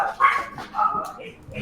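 An aggressive dog gives a few sharp barks mixed with whining yelps, close and moderately loud, with people talking over it.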